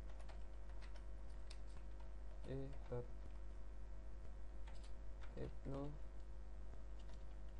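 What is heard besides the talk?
typing on a computer keyboard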